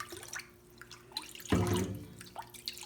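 Water is poured from a tap into a cup for a sink-or-float science demonstration, a short splashing gush with drips around it, fairly faint and close, with no talking.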